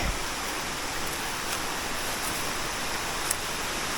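Buntong waterfall rushes as a steady, loud broadband hiss of falling water, even and unbroken throughout, with no voices.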